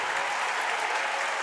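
Indiana women's basketball crowd cheering and applauding during a close game against Michigan State, a dense, steady roar of clapping and voices filling the arena for the whole moment.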